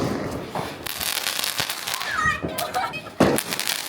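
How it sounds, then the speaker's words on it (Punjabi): Egg firecrackers go off during a Diwali celebration. Sharp cracks and pops come close by, with one loud burst near the end, while children and adults talk and shout throughout. "ਆਂਡਾ ਪਟਾਕਾ"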